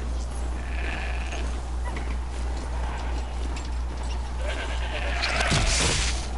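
Goat bleating in the video game Horizon Zero Dawn after the animal is stomped on, a short nasal cry over a steady low game ambience with faint hoof-like clops.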